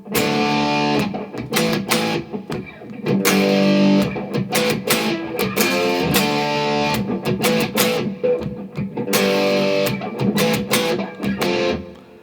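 A distorted electric guitar plays a chugging riff from the Black Butler opening theme twice through, loud and close, with short choppy gaps between phrases.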